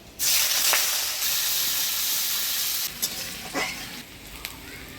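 Chopped onion hits hot oil with black cumin seeds after boroli fish has been fried, for a village-style fish curry: a loud burst of sizzling and hiss that eases after a few seconds, with faint stirring clicks.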